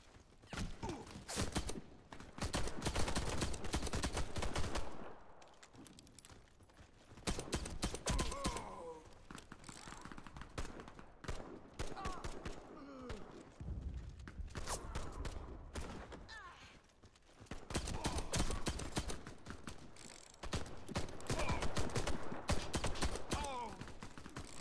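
Nagant M1895 revolver gunfire in a World War II video game, repeated bursts of sharp shots and clattering battle noise in loud waves with quieter gaps, a voice briefly heard among them.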